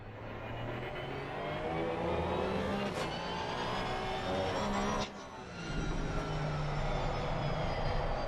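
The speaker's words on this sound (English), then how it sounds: "Oh, he's got a bit of slide on the car there. You can hear it." Porsche Cup race car in a sim racing game at Circuit de Barcelona-Catalunya, engine droning steadily with a brief dip as the car slides, then pulling hard again, continuous and close throughout.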